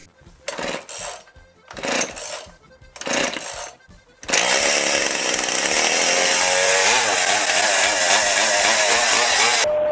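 A power saw cuts a wooden bathroom door frame during a renovation: three short bursts of about half a second each come first, then one loud, continuous cut that lasts around six seconds, close to the microphone.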